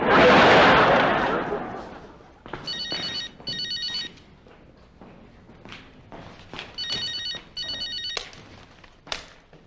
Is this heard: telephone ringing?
yes